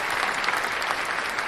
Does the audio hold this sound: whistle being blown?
no